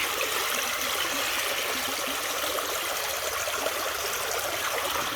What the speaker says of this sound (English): Dump some of the water out of here.